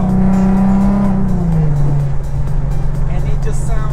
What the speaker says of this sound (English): It sounds like a race car, like a GTR